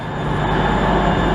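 A Class 380 electric train, unit 380 004, gives a steady, loud, broadband rumble and rush throughout, with no voices over it.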